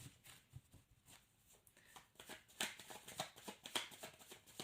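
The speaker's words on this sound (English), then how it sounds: "Okay, I'm just going to shuffle." Tarot cards shuffled by hand for a psychic reading, a soft riffling and slapping that grows busier and louder in the second half, close by with no talking.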